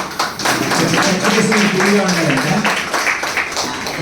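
Audience clapping at a Brahma Kumaris mimicry show in Warangal: steady, dense applause fills the whole stretch while a voice speaks over it.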